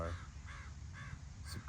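Crows caw repeatedly outdoors, about four calls at a steady rhythm, moderately close, over a low rumbling background.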